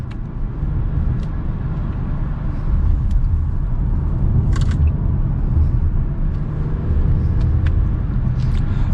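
A 2022 Lexus ES350 accelerating gently in normal mode, with a steady low engine and road rumble that swells slightly after a few seconds and holds continuously, heard from inside the cabin.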